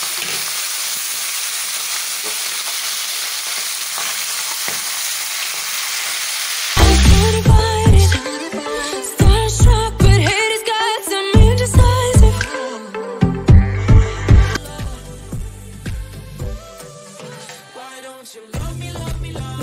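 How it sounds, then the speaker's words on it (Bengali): Pomfret fish frying in mustard oil in a wok: after quiet background, a loud burst of sizzling and crackling starts as the fish go in, with bubbling hiss and stirring clatter that slowly eases. "কড়াতে আমি সর্ষের তেল দিয়ে দিয়েছি, এরপরে আমি এই পমফ্রেট মাছগুলো ভেজে নিচ্ছি"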